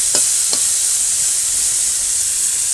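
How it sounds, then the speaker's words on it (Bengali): Mustard seeds and chili fry in hot oil in a village kitchen, giving a steady close sizzling hiss broken by two brief sharp pops or utensil taps near the start. "তেলে পরে সরষে দিয়েছি, লঙ্কা দিয়েছি, একটু লবণ হলুদ আর সামান্য একটু চিনি। এখন এটা একটু ভাজা ভাজা করে নামিয়ে দেবো।"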